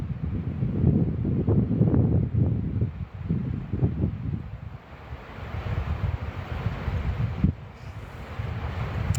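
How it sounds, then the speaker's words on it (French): Wind blows outdoors, a loud, continuous rumble of gusts buffeting the microphone, swelling and easing over several seconds with no voices. "c'est qu'il y a du vent et moi je crains le vent"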